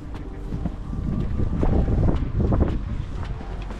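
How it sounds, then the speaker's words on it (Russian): Strong gusty wind, forecast at up to 20 metres per second, buffets the microphone in a continuous loud low roar that swells and dips without a break and drowns out any other sound. "Очень ветрено."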